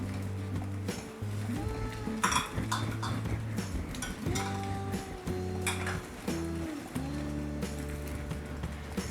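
A spoon scrapes and clinks against a pan while a beetroot sweet with oats is stirred, producing irregular metallic knocks and rubbing over a low background hum.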